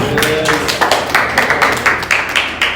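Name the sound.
audience clapping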